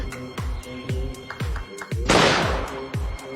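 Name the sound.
gunshot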